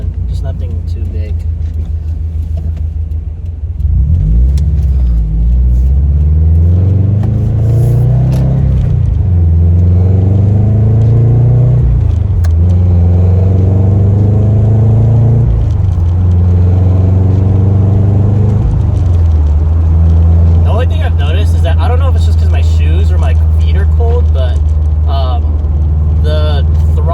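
A cold Scion FR-S with a Tomei header exhaust idles with a deep rumble, then revs up and drops back about four times in a row, each rise loud and close, before settling back to a steady idle.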